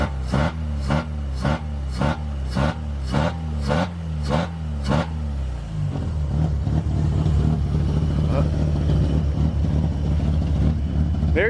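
A Mazda RX-7 FC rotary engine on a Haltech Elite, revved in eight quick, evenly spaced blips that rise and fall sharply, then settling into a loud, rough, lumpy idle close by.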